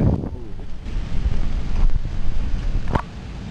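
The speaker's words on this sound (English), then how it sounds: "The wind." Strong wind blowing outdoors, buffeting the microphone in loud, rumbling gusts that rise and fall steadily, with no one talking.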